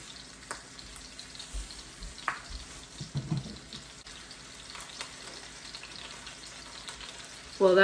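Beef roast searing in a hot pan before going into a crockpot, a soft continuous sizzle with a few faint clinks and scrapes, quiet throughout and louder briefly at the very end.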